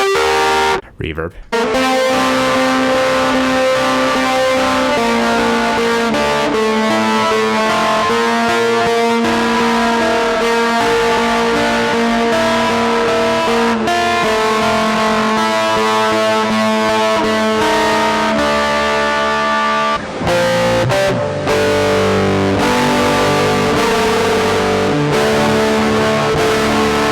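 An Irish bouzouki runs through a reverb guitar pedal, strummed chords and single-note lines washing out loudly with long, smeared decay, broken by a couple of brief pauses.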